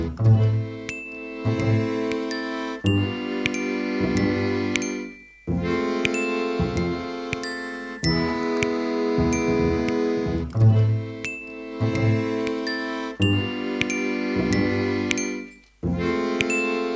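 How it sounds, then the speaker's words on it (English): A glockenspiel plays bright, ringing metallic notes with an eerie, creepy horror-film character, struck in repeated phrases with brief pauses between them and clear, lingering tones. "which is the glockenspiel, but it also occupies that eerie, creepy, like horror movie sound."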